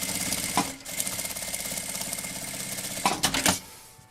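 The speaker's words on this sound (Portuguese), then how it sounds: "eu vou passar uma costurinha de meio pé de máquina, aqui assim, ó." A sewing machine running a half-foot topstitch seam along a fabric notebook cover, a fast steady whirring stitch broken by brief pauses and a few clunks near the end.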